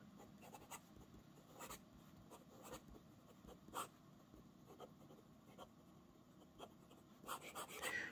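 A Diplomat Elox Matrix fountain pen with a steel nib writing quickly on paper, giving faint, close scratchy strokes in short bursts with brief pauses between words, alone and very quiet.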